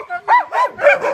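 Siberian Husky sled dogs bark in a quick run of four or five close, loud yelps and barks, excited and slightly whining, with no talk over them.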